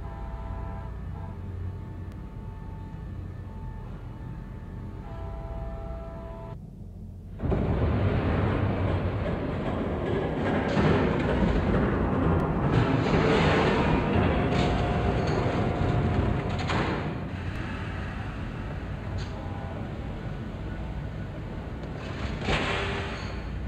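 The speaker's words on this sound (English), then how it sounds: "There's a train coming." A train rumbles past close by in a video game, a loud broadband roar that surges in after a brief lull and holds steady for many seconds.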